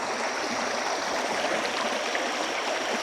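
A rain-swollen creek in an Appalachian forest pours through a culvert, making a loud, steady rushing hiss with no pauses and no voices.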